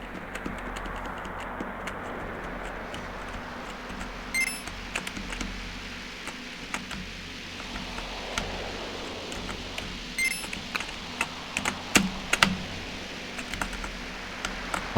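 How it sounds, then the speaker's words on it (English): Computer keyboard keys tapped while playing a game, scattered clicks and quick bursts of presses, some sharper and louder, over a constant low hum of game sound; no talking. "I have to press left and right and then page up and page down. So my hand is like going all over the keyboard."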